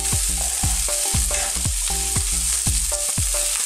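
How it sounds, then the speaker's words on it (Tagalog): Chopped chili and onion stir-fry in a pan for a pumpkin and chicken dish, giving a constant bright sizzle. A rhythmic, repeating tonal beat runs steadily underneath, and no one speaks. "Now, susunod na rin po natin ang chopped chili at ang onion. Stir lang po natin siya ng ilang minuto."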